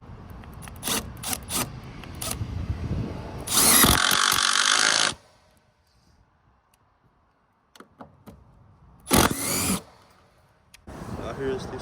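Milwaukee impact driver driving a screw in short loud bursts of rapid hammering, two main runs separated by quiet stretches, with handling clicks and knocks around them.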